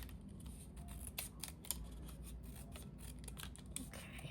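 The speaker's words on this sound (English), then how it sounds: "just trimming off where I misscored" Scissors snip along the edge of a paper envelope in quick, close cuts over a low background hum, and a voice speaks briefly.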